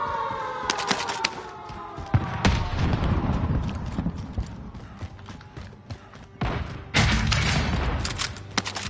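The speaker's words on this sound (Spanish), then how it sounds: "¿Esos tiros los están dando ustedes o cómo es la cosa?" Rapid bursts of gunfire crack and boom in an online shooter match, dense and loud over a wailing siren-like tone, with repeated volleys across the whole stretch.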